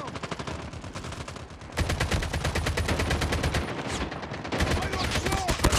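Rapid automatic gunfire in the mobile shooter Call of Duty Mobile, dense bursts of shots rattling continuously and growing louder partway through, with game voice callouts faintly underneath.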